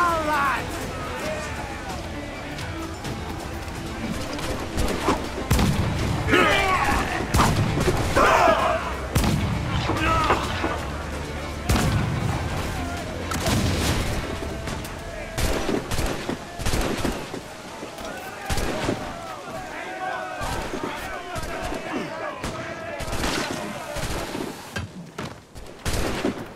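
Ship cannon fire in a naval battle in Assassin's Creed IV Black Flag, heavy booming volleys repeating through a long stretch of battle din, with crew shouts and orders over the shooting.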